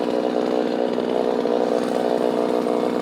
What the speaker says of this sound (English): Okay, the saw is good and warmed up.